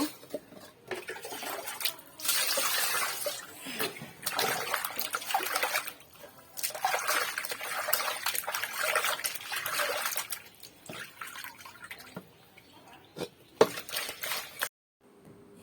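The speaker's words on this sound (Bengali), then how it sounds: "এখন হচ্ছে সবগুলো ধুয়ে নিচ্ছি ভালোভাবে" Pieces of cut fish being washed in water, with steady splashing, trickling and sloshing plus occasional clinks of a pot, close and continuous before stopping near the end.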